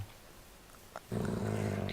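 Dogs growl in a Minecraft game, a low rumbling burst that starts partway through and holds steady and fairly loud until the end, after a quiet stretch with a brief faint click.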